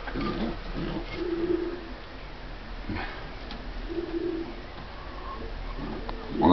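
A pigeon coos in low, soft bursts, a few separate calls spaced apart over a steady outdoor background.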